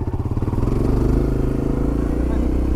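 A new off-road dirt bike idles close by with a steady, throbbing engine putter that continues without a break, its rhythmic pulsing loud and unbroken for the full length.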